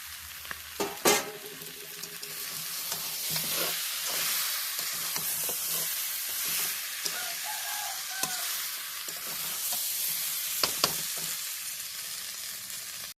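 Mutton with raw papaya pieces and fried potatoes sizzles steadily in a pan, with scraping stir strokes and clinks of a spoon against metal breaking through the continuous frying hiss.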